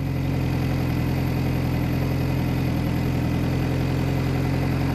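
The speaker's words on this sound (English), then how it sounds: "this engine's running a bit warm" A car engine idles steadily and close, running a bit warm, a constant low droning hum with even mechanical pulsing and no talk over it.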